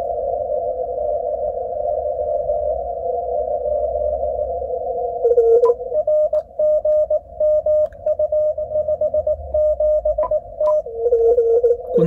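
Steady Morse code CW tone on an ICOM amateur radio receiver (IC-7300M/IC-705) with RIT offset, first a continuous carrier, then rapid keyed dits and dahs over faint background hiss, heard alone.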